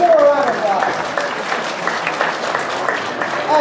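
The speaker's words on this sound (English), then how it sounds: "Let's give her a round of applause." Audience applause at a university chemistry demonstration night, a lively burst of clapping from a crowd that runs throughout and swells at the start and end, with voices briefly audible.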